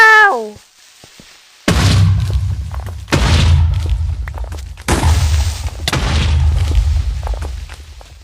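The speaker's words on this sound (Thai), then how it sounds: "ตัวคิปเปอร์ระเบิด ใส่ เกือบตาย" Several loud booming Minecraft creeper explosions, each a deep sudden blast with a rumbling tail, coming one after another after a short synth chirp.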